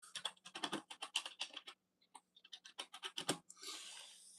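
Rapid clicking keystrokes on a computer keyboard come in quick uneven bursts with a brief pause midway, quiet and close, followed by a soft rushing hiss at the end, with no voices.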